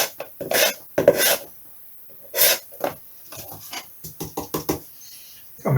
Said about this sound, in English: Basic sanding done.